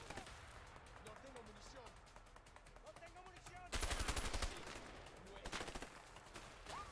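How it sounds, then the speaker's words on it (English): Shotgun and rapid gunfire in the co-op video game A Way Out, distant popping under game music and chatter, then a loud close burst of shots in the middle and a few more later, with voices talking throughout. "Can that shotgun even shoot that far?"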